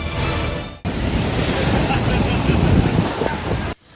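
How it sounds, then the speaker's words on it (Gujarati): Huge monsoon waves pound the shore at Gomti Ghat in Dwarka under a strong sea current, a loud, continuous crashing surge that starts and stops abruptly. "ગોમતી ઘાટના કિનારે રાક્ષસી મોજા ઉછળતા જોવા મળ્યા"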